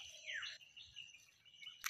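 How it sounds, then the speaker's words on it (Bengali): Birds chirp and twitter faintly in a rural village setting among rice and crop fields, with a few quick rising and falling calls coming and going over a quiet background and one brief sharper chirp near the end. "পাখির কিচিরমিচির ডাকের শব্দ।"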